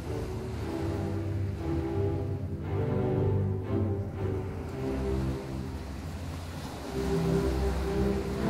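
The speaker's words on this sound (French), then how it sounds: "je regarde l'océan, j'entends le bruit des vagues" Ocean waves roll and wash in a steady, continuous surf roar that swells slightly toward the end, with a low tonal drone sitting beneath the noise.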